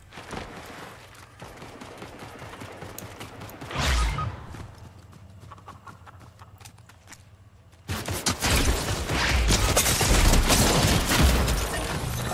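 Rapid bursts of Fortnite gunfire crackle through the match in scattered volleys, swelling into a dense, loud barrage toward the end with no talking.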